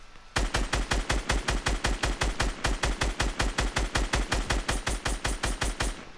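A SCAR rifle in a video game firing in one long rapid burst, roughly five to six shots per second, sharp close punchy reports with no talking.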